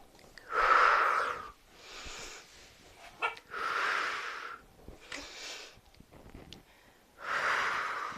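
Slow, deliberate yoga breathing, a series of loud breathy inhales and exhales in a steady rhythm, close and alone.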